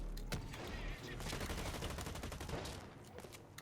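Rapid automatic gunfire from a weapon in the shooter game Blacklight Retribution, dense bursts of sharp repeated shots filling the clip at close range.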